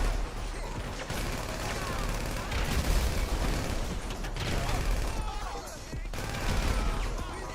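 Grand Theft Auto gameplay fills with rapid, overlapping bursts of gunfire from several weapons. The firing rises and falls in waves over a continuous layer of game noise.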